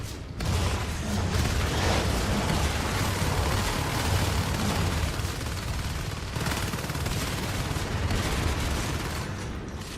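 Dense, continuous gunfire and explosions from a video game battle between Marines and attacking units in a tournament match, a loud sustained barrage filling the whole stretch with no speech.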